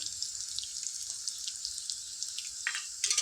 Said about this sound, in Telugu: పచ్చిమిర్చి ఫ్రై అవ్వాలి దీంట్లో ఒక స్పూన్ పసుపు వేసుకుందాం